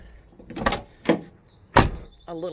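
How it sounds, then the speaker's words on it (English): 1978 Ford Mustang King Cobra car door with new T-top weatherstripping, three solid thunks spaced about half a second apart as the door is pushed and slammed shut, ending in a short mechanical whir. "You have to kind of slam it in order for it to fully latch, but it does shut."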